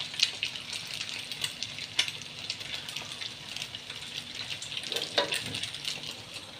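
Eggs stir-fried in a pan for a northeastern Thai shrimp dish, with a steady close sizzle and bursts of scraping and stirring throughout, no talk.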